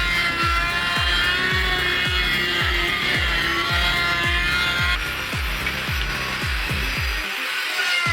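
A wood planer hums steadily while planing timber, with a regular, rhythmic thumping underneath, about once a second, continuous and fairly loud throughout.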